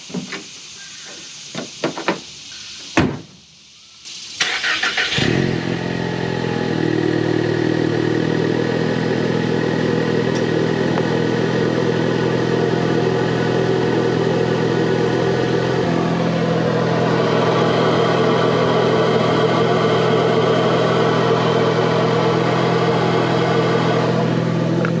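A few clatters and thumps, then a Ford Mustang EcoBoost engine fitted with a Mishimoto cold air intake starts and settles into a loud, steady idle with a throaty intake roar.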